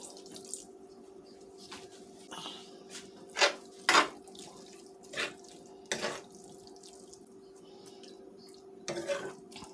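Water is poured in small splashes into a vegan tortilla casserole in a kitchen, several brief bursts with gaps between them and no talk.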